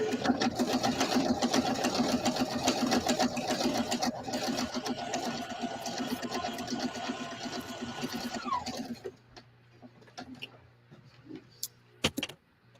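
A sewing machine stitches through cardstock in one long, steady, fast run that stops abruptly, followed by quieter handling sounds and a low hum.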